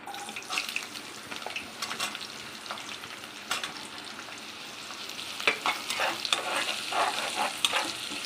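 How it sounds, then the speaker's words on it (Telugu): Sliced onions fry and sizzle in a pan for vegetable white kurma while a spoon stirs them in repeated scraping strokes, steady close-up frying with no talk. "వేసుకొని మనం ఫ్రై చేసుకోవాలి"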